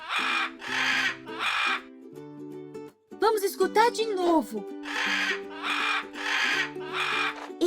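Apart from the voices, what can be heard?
macaw call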